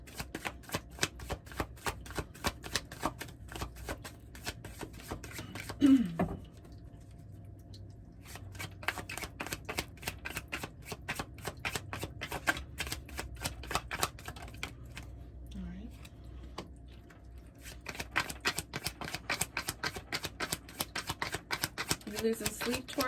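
Tarot cards being shuffled in rapid, dense riffling bursts with brief pauses between rounds, close and clear, while a voice speaks now and then.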